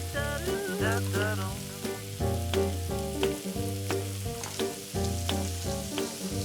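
Lobster shells sizzle and fry in a hot pan at close range, a steady broadband crackle with scattered sharp pops, while tonal music plays throughout underneath.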